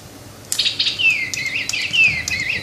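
A Joypalette toy bird chirps and trills in bright, whistled bird-like phrases, with quick descending sweeps repeating for a couple of seconds, close and fairly loud over a quiet room.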